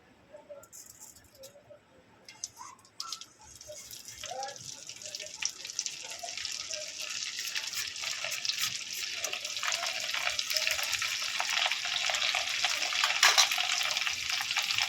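Raw rice grains dropped a few at a time into hot oil through a strainer, giving a broadband frying hiss that swells from faint to steady and loud, with small scattered pops and clinks early on.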